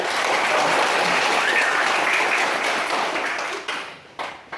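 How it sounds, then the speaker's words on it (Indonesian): Primary schoolchildren at an elementary school in Oenaek clap together in a dense, steady burst of applause for several seconds, then it breaks into a few scattered final claps. "Kita tepuk tangan dulu ya."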